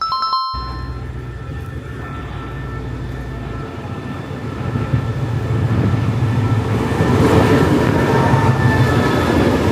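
A 16-carriage passenger train rolls in toward the floating railway at Pa Sak Jolasid Dam, its low rumble and wheel noise building steadily louder and nearer over about ten seconds, with faint high tones at the start.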